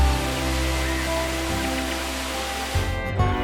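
Monsoon rain falls steadily in Manali, a dense, even hiss that holds unbroken for several seconds before briefly thinning near the end.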